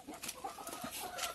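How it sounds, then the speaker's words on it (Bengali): A loose village hen clucks in a quick run of short, fairly faint calls, heard alone over about a second and a half. "আবার একটা মুরগি ছুটছে রে"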